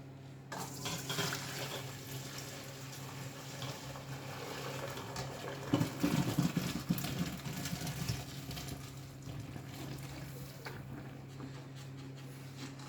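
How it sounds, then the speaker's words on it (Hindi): Boiled pasta drained through a strainer in a restaurant kitchen, water pouring and splashing in a steady rush that swells in the middle before easing off, with a low hum underneath. "पास्ता को इमीडिएटली हम स्ट्रेन आउट कर लेंगे"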